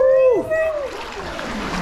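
Someone drops into cold water at the Xcaret park in Mexico, making one sharp close splash right after a brief voice cry, then a short wash of churning water.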